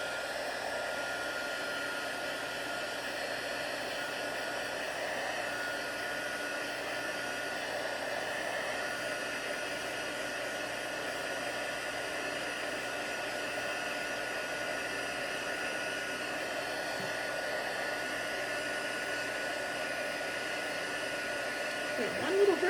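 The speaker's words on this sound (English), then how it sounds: "I'm going to try to dry it with my embossing tool so I can show you the next part" Embossing heat tool blowing hot air to dry wet watercolor paint, a steady, even whirring drone that runs unbroken for the whole stretch, with a faint rustle near the end.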